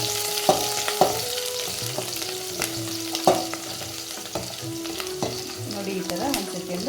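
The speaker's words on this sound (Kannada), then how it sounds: "ಈಗ ಕಟ್ ಮಾಡಿರೋಂಥ ಈರುಳ್ಳಿನ ಹಾಕ್ತಾಯಿದ್ದೀನಿ ಹಾಗೆ ಒಂದು ಸೆಕೆಂಡ್ ಫ್ರೈ ಮಾಡ್ಕೊಳ್ಳಿ" Chopped onions go into hot oil after mustard seeds and cumin have spluttered, for an avarekai and karimeen sambar, giving a continuous close sizzle with intermittent scraping stirs and clinks of a spoon against the pan.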